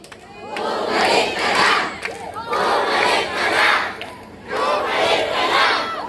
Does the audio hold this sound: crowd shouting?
yes